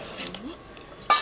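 A spoon stirs a layered pineapple dish in a pot, with a few soft scrapes and light clinks of metal, ending in a louder clatter, as a voice talks briefly.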